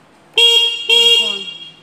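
Two loud, close honks from an E Future electric scooter's horn, the first short and the second longer, sounding in otherwise quiet surroundings.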